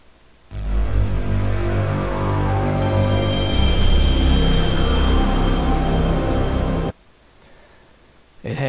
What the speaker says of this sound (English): It has the original PlayStation boot graphics and sound and the menu.